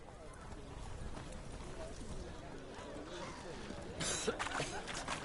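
Roach the horse gallops in The Witcher 3: Hearts of Stone, a steady clip-clop of hooves running beneath constant speech and background game sounds, growing louder toward the end.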